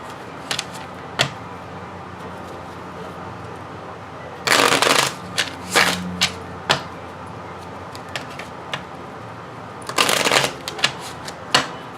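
Tarot cards are shuffled close by in bursts: two loud riffling passes among scattered soft taps and flicks against a quiet room.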